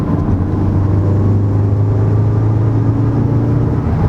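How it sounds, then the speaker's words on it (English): A 2019 VW Golf R in race mode drones with a steady, deep exhaust note as the valves open fully, a continuous loud hum with no clear rise or fall and no talking. "You can hear the exhaust valves open up all the way."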